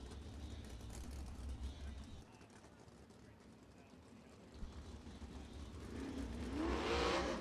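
USAC sprint cars on the dirt track at Ocala Speedway during hot laps, engine roar low and distant at first and swelling louder near the end, under continuous announcer talk.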